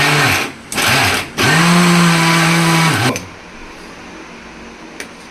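A mixer grinder whirs loudly up close as it grinds chopped onions into a coarse paste, running in two short pulses and then one longer burst before stopping into quiet.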